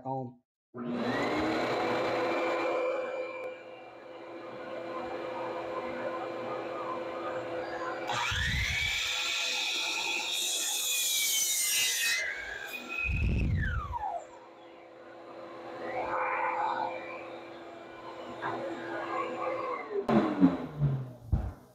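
A Delta Cruzer saw makes a 45-degree miter cut with dust collection running: a steady loud whine and roar, with the pitch rising and dipping as the blade works through the wood, then winding down at the end.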